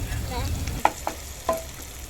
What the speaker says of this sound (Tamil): இஞ்சி பூண்டு பேஸ்ட் வதங்கிடுச்சு